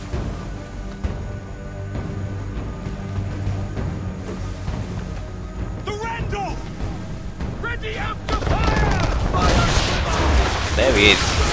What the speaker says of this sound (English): There he is, firing at us, so yeah, I just fired like a warning shot to annoy him.